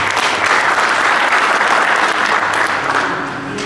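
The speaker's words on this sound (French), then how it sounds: "je vous demande d'accueillir et d'applaudir" A loud, steady wave of audience applause fills a hall in welcome of a poet, dense clapping holding throughout before easing slightly at the end.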